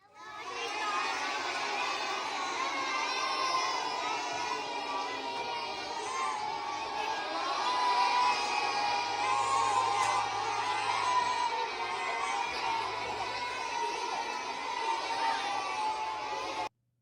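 A kindergarten class cheers and shouts together in a loud, sustained crowd of high children's voices, with excited chatter and yells rising and falling for the whole stretch.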